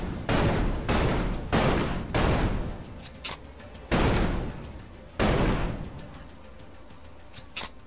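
Gunfire in the video game Elex: five loud, booming bursts arrive at irregular intervals, with a few short sharp cracks between them and a faint ambient bed underneath.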